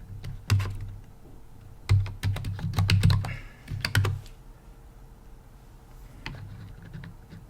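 Keys clack on a computer keyboard as a Linux terminal command is typed, several bursts of quick close keystrokes with pauses between them and no talking.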